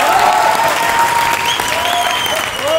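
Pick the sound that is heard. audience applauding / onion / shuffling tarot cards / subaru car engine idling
audience applauding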